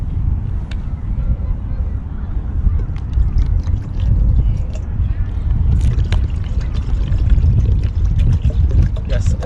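Water being poured out in a steady stream, one liter going into a container to start a giant-bubble solution, heard outdoors with some wind rumble on the microphone throughout.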